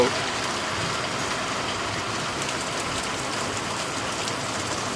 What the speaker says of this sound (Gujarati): શિયાળાની અંદર વરસાદ ચાલુ થઈ ગયો છે